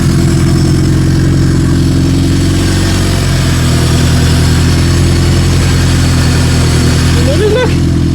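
Honda K20 engine swapped into a third-generation Toyota MR2 idling steadily on its first start, a loud, close, even rumble, with a brief rise near the end and a voice speaking over it.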